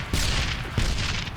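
Grenade explosions in the first-person shooter game Darkest of Days, a series of broadband blasts landing near 0.15 s, 0.8 s and 1.35 s over constant loud battlefield noise.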